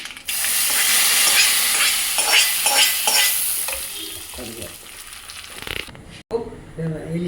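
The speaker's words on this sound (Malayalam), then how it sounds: "ഇട്ടു കടുക് വറുത്ത് ഒഴിക്കാൻ പോവാട്ടോ." Mustard seeds fry in hot oil for tempering a banana-stem erissery, giving a loud, steady sizzle with stirring clatter for about six seconds before a voice speaks briefly.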